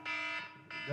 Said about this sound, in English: It's on silent. I guess I had an alarm set.